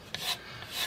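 A rasp scrapes across the back of a handmade guitar body in two or three quick rough strokes, soft and close, in under a second.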